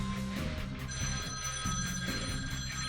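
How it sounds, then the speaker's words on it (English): A telephone rings in a pulsing electronic pattern of repeated bursts, carrying over a busy background of game music and effects, moderately loud and steady. "Ah, it's my wife's phone."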